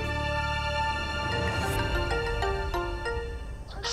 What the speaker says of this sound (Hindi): दुआ का फोन आ रहा है।